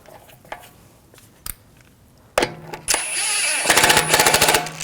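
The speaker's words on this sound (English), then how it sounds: "Take the lug bolt, get that started." Lug bolts being run down on the wheel of a 2006-2009 Audi S4 with a rattling impact wrench, loud close bursts that grow into a sustained buzzing rattle after a few quieter clicks.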